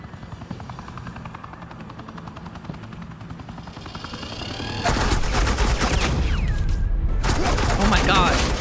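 Dense, rapid suppressing gunfire bursts out in Batman: The Enemy Within, loud and sustained over the thudding rotor drone of a nearby helicopter, with a brief gap before the shooting resumes.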